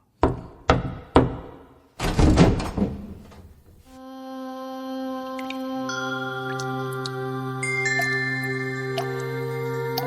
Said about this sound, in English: He walked up to Draupadi's room and knocked on the door.